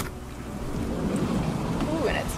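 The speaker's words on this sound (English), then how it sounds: "it's raining outside" Rain falls outside in a city while someone camps in a van, a steady moderate wash of noise with a low rumble throughout and a faint voice partly buried beneath it.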